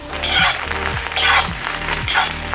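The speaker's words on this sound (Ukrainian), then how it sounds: "Грибочки смажуться 5 хвилин." Chanterelle mushrooms fry with butter in a kazan, giving a steady loud sizzle with periodic scraping stirs about every half second to second, no voices.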